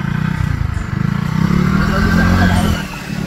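A motorcycle pushes through deep floodwater that reaches halfway up the bike. Its engine drones in a steady, loud, close rumble for the whole stretch, with voices mixed in.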